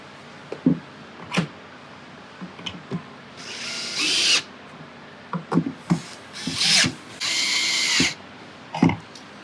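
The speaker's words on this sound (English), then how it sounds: "I'm going to tighten these screws down." A power drill tightens bracket screws into the legs of a Jasper gaming table, with several short whirring bursts and longer driving runs, close and fairly loud, mixed with handling knocks between them.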